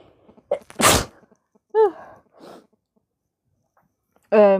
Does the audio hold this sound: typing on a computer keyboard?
no